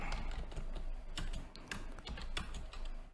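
Rapid keystrokes on a computer keyboard as C# code is typed, a close, steady patter of clicks in uneven bursts with brief pauses between them.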